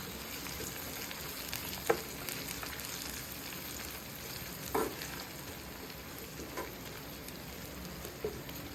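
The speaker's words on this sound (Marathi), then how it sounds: "एक टोमॅटो टाकायचा त्याच्यावर अर्धी चमचा मीठ टाकायचा म्हणजे टोमॅटो सॉफ्ट होतो एकदम आणि तेलावर परतून घ्यायचं" Tomato with salt sautés in oil over golden onions, a steady close hiss of frying with a few faint clicks from a spoon against the pan.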